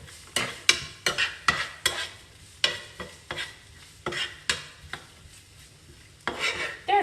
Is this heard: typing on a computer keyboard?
no